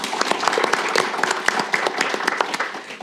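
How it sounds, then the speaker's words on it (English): Audience applause for a panelist at a political analytics conference on polling, many distinct claps forming a lively, moderately loud ovation that continues evenly for the whole stretch. "Please let's clap for him."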